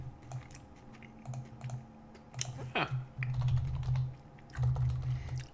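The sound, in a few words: typing on a computer keyboard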